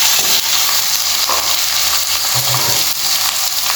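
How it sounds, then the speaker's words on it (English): Fresh and dried prawns dropped into a hot pan of sautéed onion and chili for a Goan prawn curry, giving a loud, continuous close sizzle and hiss with faint stirring scrapes. "Now we'll add our fresh and dry prawns."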